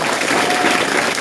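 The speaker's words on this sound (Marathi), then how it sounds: "त्या 3 मुलींसाठी एकदा आपण टाळ्या वाजवूया" Audience at a school speech event for Jijau's birth anniversary clapping for three girls who gave speeches, a dense, steady burst of applause filling the whole short moment.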